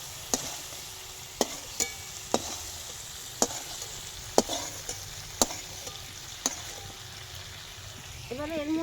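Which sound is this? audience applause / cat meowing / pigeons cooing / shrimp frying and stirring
shrimp frying and stirring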